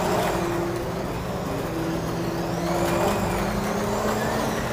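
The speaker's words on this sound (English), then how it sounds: "I don't know what you do to those cars to make them sound fast" Carrera digital 1/24 scale slot cars racing on a track, their electric motors giving a continuous, fairly loud whine that rises and falls in pitch as the cars pass, with no talking.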